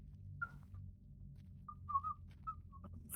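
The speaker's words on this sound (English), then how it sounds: "And then you hear a little bit of whistling." Faint, distant human whistling during a tabletop game session set in The Last of Us: a few short, airy whistled notes spaced irregularly over a quiet, static-like background hum.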